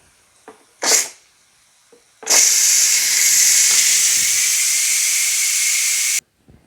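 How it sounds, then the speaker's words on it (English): A Ninja Foodi pressure cooker vents hot steam in a loud, steady hiss lasting about four seconds, preceded by a couple of short clicks and a brief puff, then cut off abruptly. "Okay, let's release the pressure."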